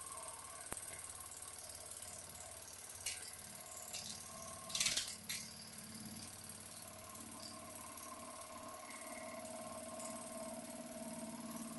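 A small live steam model locomotive engine running on a low flame, giving a quiet, continuous mechanical clatter and hum, with a sharp click early on and a brief hissy burst near the middle.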